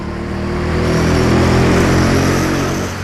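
A rental go-kart's small engine runs flat out on an indoor track, a loud buzzing drone close by that holds steady at high revs and drops off slightly at the very end.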